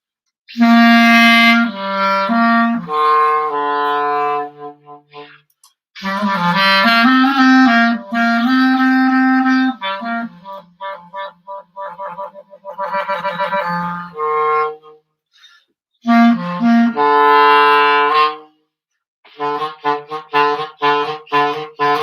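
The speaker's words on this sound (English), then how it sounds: "This is called a clarinet." Solo clarinet melody played alone, phrases of sustained and quick notes separated by short pauses, close and clear.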